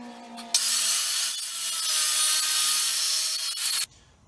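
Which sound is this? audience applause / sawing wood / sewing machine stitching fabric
sawing wood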